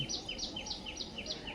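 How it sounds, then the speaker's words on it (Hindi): A bird chirping at a zoo, a steady string of rapid high-pitched twittering calls repeating in a quick rhythm, fairly near, over a constant murmur of background noise. "चिड़िया बोल रही है"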